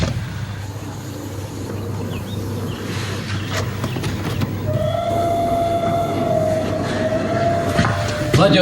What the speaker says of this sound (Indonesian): Kereta itu makin mendekati jembatan.